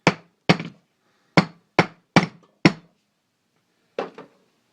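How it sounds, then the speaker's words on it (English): Seven sharp metallic taps from a hammer seating a primer in a .410 shotgun shell, spaced irregularly with quiet gaps, close and crisp. "I'm just going to take a hammer and just tap it a little bit here."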